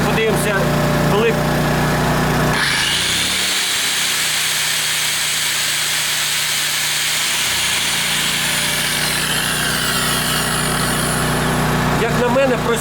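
A powerful angle grinder runs on a Champion 73001I-E 3.5 kW inverter generator, a loud, steady, high-pitched whine over the generator's droning hum that shifts in tone as the tool spins up, continuous throughout.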